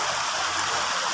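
Water rushes steadily in a stream at Kinon, a dense continuous hiss that stays close and even throughout the short stretch.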